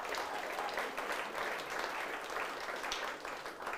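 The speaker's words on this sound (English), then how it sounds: "Give them a big round of applause" An audience at a high-tech awards finalists event in Auckland applauds, a dense, even burst of clapping filling the whole few seconds without speech.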